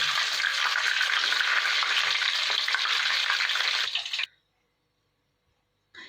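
Chicken pieces frying a second time in hot oil for crispy chilli chicken, giving a loud, dense, steady sizzle up close that stops abruptly partway through, followed by near silence.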